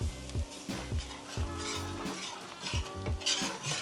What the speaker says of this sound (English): Stir fry until it's fragrant, until the coconut break in oil